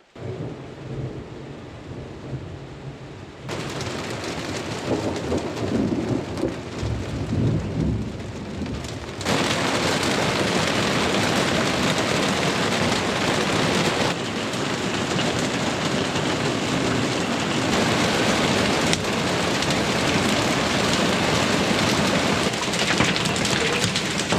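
Heavy rain pours steadily during a thunderstorm on an off-grid farm in Portugal, a dense continuous roar with rumbling thunder that swells louder after the first few seconds and holds, with no talking.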